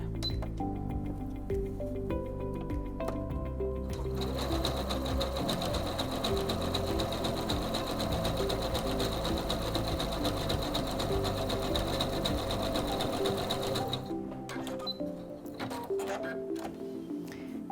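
A Singer C430 sewing machine stitches in a fast, even mechanical whir with rapid ticking, running steadily for about ten seconds before slowing and stopping, close and alone.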